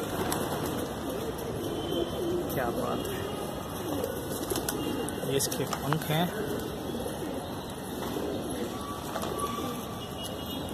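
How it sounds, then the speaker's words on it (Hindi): A pure Shahjahanpuri pigeon with white rings coos softly near a person handling it, under steady background hiss while someone talks throughout. "प्योर शाहजहाँपुरी कबूतर वाइट रिंग्स"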